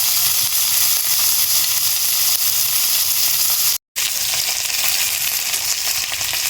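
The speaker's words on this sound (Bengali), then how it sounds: "মাছটা কড়া করে ভেজে নিয়েছি, মাছটা ভাজা কমপ্লিট হয়ে গেছে।" Pomfret fish frying crisp in hot oil makes a loud, continuous close-up sizzle and hiss, interrupted only by a momentary cut near the middle.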